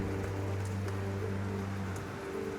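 Storm rain falls in a steady, hissing patter, with a low tonal drone running underneath throughout.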